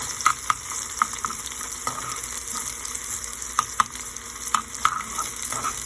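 Onions frying in a pan during a home cooking session, a steady close sizzle with occasional sharper pops and stirring clicks, no voices.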